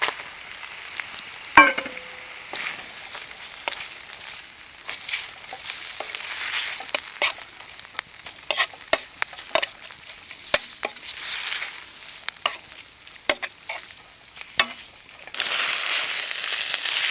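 Noodles for yaki udon frying in a pan over a wood campfire, a steady sizzle with scattered sharp stirring clacks and scrapes, close and fairly loud, with no voices.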